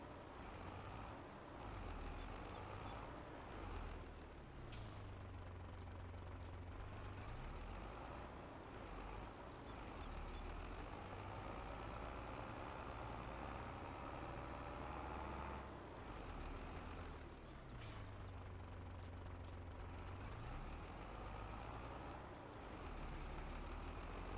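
A tractor engine runs steadily in Farming Simulator 22, a low, droning diesel rumble with a couple of brief hissing bursts, like air brakes or gear shifts, and a slow swell in revs between them.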